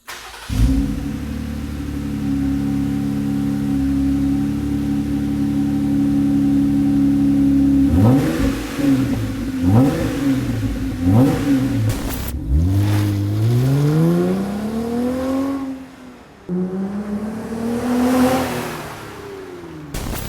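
A 2018 Jeep Wrangler JL 3.6L engine with an aFe 3-inch stainless cat-back exhaust cranks and catches, idles with a deep exhaust rumble, then is revved several times in sharp bursts that rise and fall.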